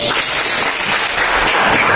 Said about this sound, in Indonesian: Berikan tepuk tangan lagi